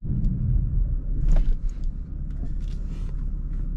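A BMW F30 car driving with a steady low engine rumble and road noise throughout, fairly close and even in level, with faint clicks and rattles on top.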